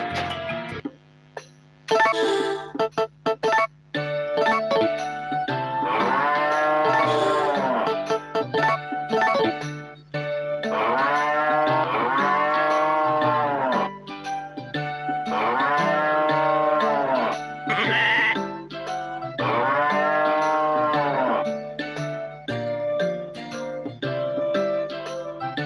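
Cattle in the Harvest Moon: The Tale of Two Towns farming game moo in four drawn-out, repeated calls over steady background game music, with no talking.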